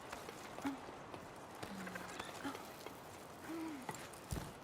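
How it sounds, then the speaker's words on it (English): A bird hoots in an indie climbing video game: a few short, soft, low hoots spaced apart, faint against quiet ambience and light footstep-like taps. "Oh, bird."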